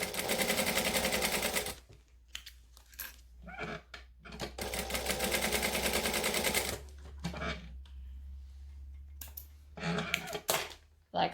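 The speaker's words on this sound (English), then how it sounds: "I'm going to chain stitch one after the other" Sewing machine chain stitching saddlebag pieces one after another, running in two long loud bursts with short stops and brief starts between, with a person talking quietly in the gaps.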